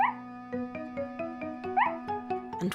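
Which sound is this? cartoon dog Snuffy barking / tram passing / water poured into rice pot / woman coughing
cartoon dog Snuffy barking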